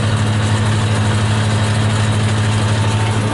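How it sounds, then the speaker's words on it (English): A New Holland 8160 tractor engine idles steadily up close, a deep, even diesel rumble with a constant low hum and no speech. "Takes a little bit getting used to this tractor."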